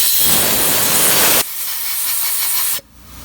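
Compressed air blasts oil off a rocker arm on a 6.4 Powerstroke engine, a loud continuous hiss that drops in strength partway through, then cuts off abruptly.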